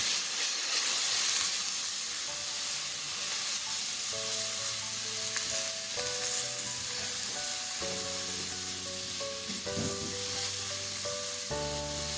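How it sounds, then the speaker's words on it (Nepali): Chopped green onion sizzles and fries in a pan of gundruk (fermented mustard leaf) soup while being stirred, a steady close hiss with occasional scraping from the spoon throughout. "मैले यसमा राखेँ 2 ठुलो चम्चा काटेको हरियो प्याज, अब यसलाई चलाइदिउँ।"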